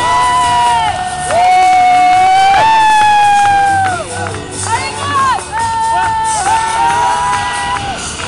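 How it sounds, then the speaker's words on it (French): Loud crowd cheering and whooping over music with sustained tones at an equestrian pony prize-giving ceremony, a lively arena atmosphere that stays strong throughout with only brief dips. "s'il vous plaît, vos applaudissements pour Margot, Ophélie et Camille."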